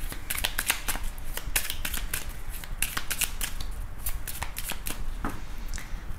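A deck of tarot cards is shuffled and cut close by, making rapid papery riffles and slaps in quick irregular bursts that keep going throughout with no talking.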